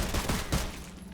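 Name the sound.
dual pistols firing in video game Sulfur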